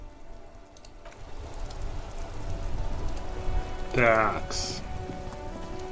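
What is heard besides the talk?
rain in the video game Disco Elysium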